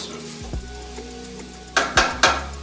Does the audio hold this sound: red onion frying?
yes